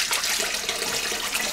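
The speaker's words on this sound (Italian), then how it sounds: "leviamo l'acqua dalla ciotola" Water is tipped out of a shaving bowl, giving a steady, close splashing and gushing rush that runs unbroken with no voices.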